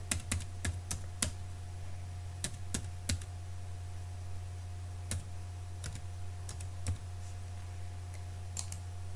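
Someone types a library card number on a computer keyboard, producing sparse, close key clicks in short bursts with pauses, over a steady low electrical hum.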